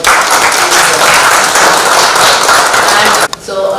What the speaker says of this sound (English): So I request all of you to please give a round of applause to all.